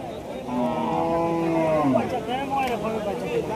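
A cow moos close by at a cattle market in Choubaria, a long drawn-out low call rising and falling over a few seconds, with faint background noise.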